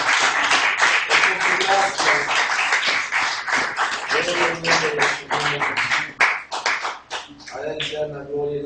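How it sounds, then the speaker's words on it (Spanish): A church congregation claps together in rapid, continuous applause during a Spanish-language worship service, loud and close, with voices speaking over the clapping. "Vamos a dar un aplauso a Jesucristo"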